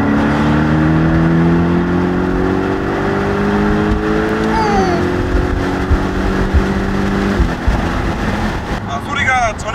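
A Porsche 718 Boxster GTS in sport mode, with the sport exhaust on, gives a loud, close engine drone that climbs steadily, drops at a gear change midway, then pulls up again.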